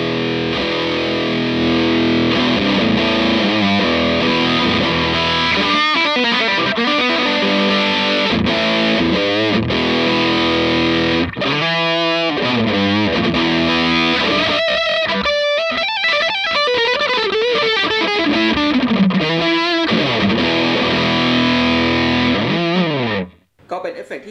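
Electric guitar heavily distorted through a Pro Co RAT pedal playing a riff with sustained chords and single-note runs, gritty and mid-focused, loud and continuous before cutting off at the end.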